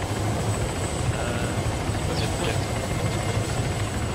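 Helicopter rotor and engine in the Arma 3 video game, a steady dense whirring roar heard alone at close range throughout, with no talk over it.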